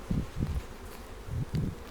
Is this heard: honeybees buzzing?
yes